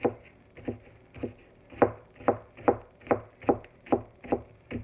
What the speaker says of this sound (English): So I'm just going to slice this sweet onion up.